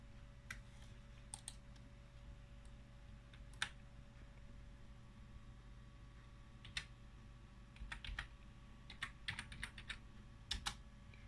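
A password is typed on a computer keyboard, giving faint, sparse key clicks in short irregular clusters over a low steady hum, close and quiet with no talk.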